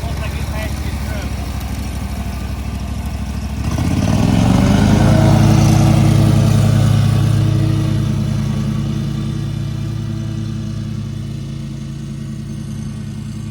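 A zero-turn mower with a 24 horsepower engine drives along, then throttles up into a louder, higher rising drone that holds and slowly eases back.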